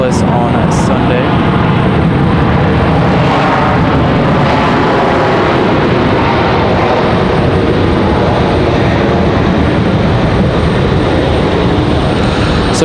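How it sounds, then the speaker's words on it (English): A United airliner in Star Alliance livery touches down at Raleigh-Durham airport, its loud, continuous engine roar carrying through the whole stretch while someone talks over it. "As the United Star Alliance livery touches down here"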